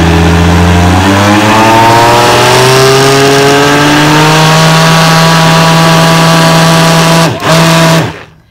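A kitchen stand mixer whirs loudly while mixing muffin batter, its motor whine rising in pitch as it speeds up and holding steady for several seconds before a brief dip and cut-off.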